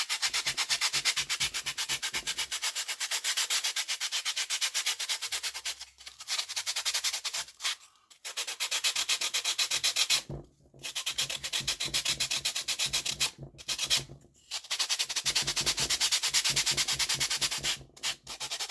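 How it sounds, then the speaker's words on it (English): Sandpaper held in a block rubs steadily over the edges of a handmade jaw harp case, a close, loud rasping scrape in long strokes broken by a few brief pauses. "bit of sandpaper, just a smooth sandpaper really, in the block. Round off the edges."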